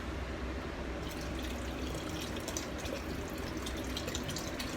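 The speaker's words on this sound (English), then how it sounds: "we can add" Broth poured into a pot of turkey carcass soup, a steady splashing liquid rush lasting several seconds, fairly faint and close, with no talking.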